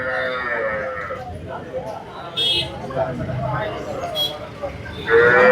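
A native crossbreed cow moos at the Poigai cattle market. Several close lowing calls come through steady market chatter, with people talking nearby.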